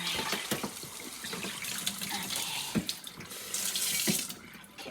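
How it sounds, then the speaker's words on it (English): Tap water runs steadily into a raw Thanksgiving turkey's cavity in a kitchen sink, a continuous splashing gush with sloshing and gurgling as the bird is rinsed and rubbed. "Just fill it with water on the inside too."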